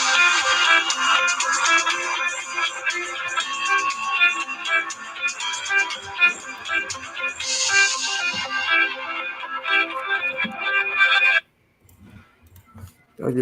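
A phone rings with a bright, repeating melodic ringtone that plays loudly for about eleven seconds and then stops abruptly, leaving near silence.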